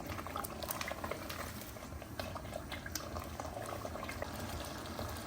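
Petha (ash gourd) halwa roasts in desi ghee in a pan, giving a steady soft bubbling and crackling that stays faint and even throughout, with no talking.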